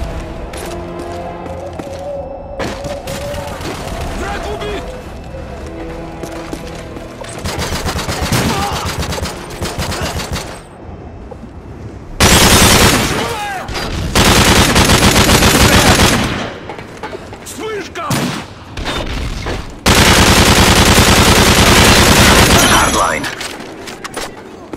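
MG36 machine gun fire in Modern Warfare 3 on the Wii: long, loud sustained automatic bursts with pauses between them, set among game sounds and some voice activity.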